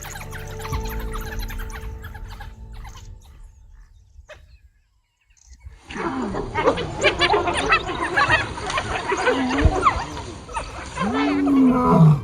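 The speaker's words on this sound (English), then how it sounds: "a male lion suddenly approaches" Male lion in the wild on the dry-season savanna, giving deep, rumbling roars and grunts that rise loud after a brief quiet gap, mixed with other animal calls and outdoor noise.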